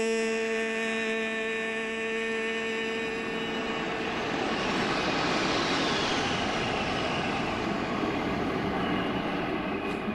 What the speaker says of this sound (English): Thank you to the 122nd Fighter Wing of the Air National Guard from Fort Wayne, Indiana, for that flyover.